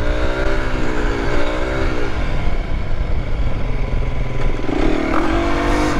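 Aprilia SX 125 motorcycle with a 125cc engine doing a wheelie, revving hard in first gear and then shifting into second. The engine pitch climbs, drops at the gearchange and rises again, loud and close throughout.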